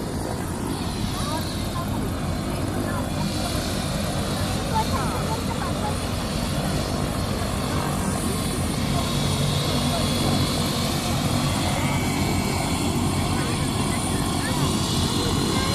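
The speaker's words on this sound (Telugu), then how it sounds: "మరి హెలికాప్టర్ మీద కూడా మేడారంని వీక్షిస్తూ ఉన్నారు" A helicopter over the Medaram jatara helipad, its rotor and engine drone continuous and loud through the whole stretch, with crowd and background noise mixed in.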